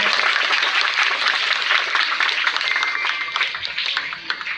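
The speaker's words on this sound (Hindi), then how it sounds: "ये तालियों की गड़गड़ाहट है।" Thunderous applause fills a ceremony in Mithila honouring guests with traditional pag headwear at a village panchayat event, a dense, continuous crowd clapping that tapers slightly toward the end.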